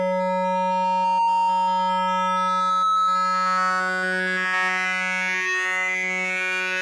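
A sustained synthesizer tone with a buzzy, ringing edge like FM feedback, loud and steady, its upper overtones shifting and growing harsher over time.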